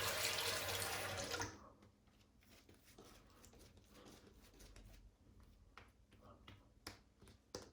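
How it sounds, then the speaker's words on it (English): Tap water runs loudly while hands are washed beneath it, a steady broadband rush for about a second and a half, then a quieter stretch of light drips, clicks and small splashes. "So when I'm running the tap, I'm washing off my hand."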